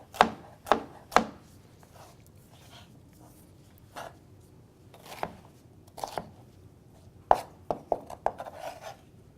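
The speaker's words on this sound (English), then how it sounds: "just roughly chop that up." A knife roughly chops vegetables for gazpacho on a cutting board, giving a dozen or so sharp, separate knocks in uneven bursts, close and moderately loud, with quiet pauses between them.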